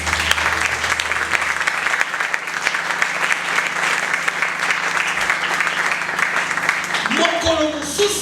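A church congregation bursts into loud, sustained applause during a service, with a voice speaking over the clapping near the end.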